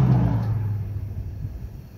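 A Ford F-250 pickup truck rumbles past on a winter road, a close, steady low engine drone that slowly fades as it goes by.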